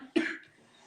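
One short, sharp cough from a person recovering from sickness, close to the microphone, fading into quiet.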